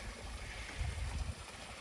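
A creek trickling and gurgling beside an early-morning hill trail, with a low, steady flow and a few louder splashy swells partway through, fairly quiet throughout.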